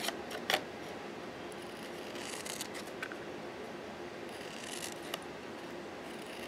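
Scissors cutting paper scallop shapes for flower petals, soft crisp snips and slicing strokes at irregular intervals, close and quiet over a steady faint background hiss.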